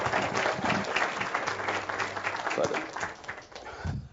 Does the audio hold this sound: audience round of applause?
yes